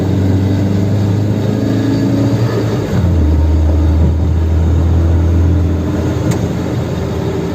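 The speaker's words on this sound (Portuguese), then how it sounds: "O barulho do rolamento do alternador aqui tá bem parecido quando tá andando." A Ford Fiesta 1.0 engine drones steadily while driving, a low rumble dropping in pitch partway through, with a faint whine from a worn alternator bearing mixed into the road noise.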